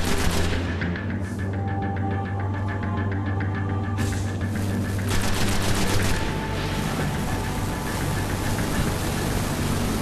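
Rapid bursts of synthetic gunfire in Destiny on PS4 over a constant low engine-like drone, shots repeating in quick runs with a brief lull midway.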